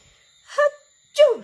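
Two sharp sneezes in quick succession, close and loud, separated by a brief quiet pause with no talking.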